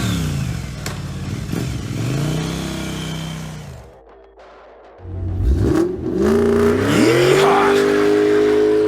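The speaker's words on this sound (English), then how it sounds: "Wolverine, not to be outdone by Cannonball, grabs his bike and challenges him to a race." Cartoon motorbike engines racing through woods, revving and whining up and down in pitch, loud and close, with a brief lull before accelerating again.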